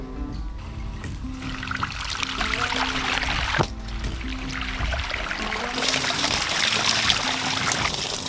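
Water pours steadily to flush out a muddy watering hole outdoors, a continuous loud gushing and splashing that grows brighter and stronger toward the end, with a sharp knock partway through and no talking.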